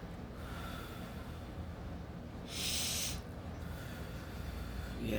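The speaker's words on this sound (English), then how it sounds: "Inhale, exhale twice." Deep, slow breathing in a calm meditation setting: a long soft hiss of air with one louder, brighter exhale in the middle, close and unaccompanied by speech.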